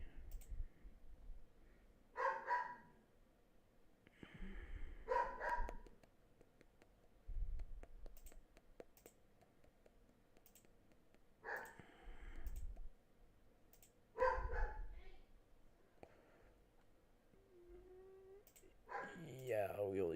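A dog barks in several short separated bursts at a moderate distance, with a person talking and mouse or keyboard clicking in between.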